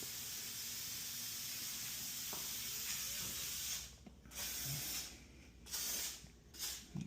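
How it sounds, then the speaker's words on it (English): Aerosol lubricant sprayed onto a metal garage door track, a steady close hiss for about four seconds, then several shorter bursts with pauses between them. "we're gonna spray this track one more time."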